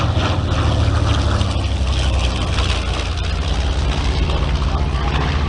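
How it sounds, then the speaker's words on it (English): Unmuffled engines of a vintage warbird bomber on a low-level flyby at an airshow, a loud, dense, rough low-pitched roar holding steady throughout. "Now listen, the right engines are unmuffled. They make a fantastic sound."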